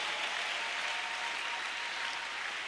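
Church congregation applauding in praise during a French-language service, a dense, steady wash of clapping from many hands that holds evenly throughout with no voices standing out.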